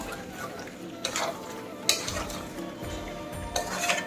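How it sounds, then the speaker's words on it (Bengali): Onion paste stirred into a cooking pan, soft scraping and shuffling strokes with a few louder utensil knocks against the pan over a faint sizzle. "পেঁয়াজ বাটাটা দিয়ে আমি এখন মিশিয়ে নিলাম"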